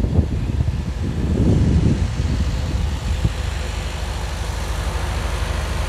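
Steady wind rushes and buffets the microphone at a beach in Bahrain, a continuous low roar with some deeper rumbling near the start.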